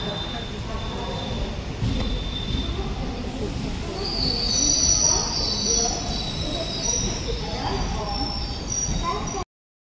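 Malgudi passenger train at a Mysore railway station, a continuous rumble of wheels on rails with high metallic squealing rising midway, heard close by with people talking nearby.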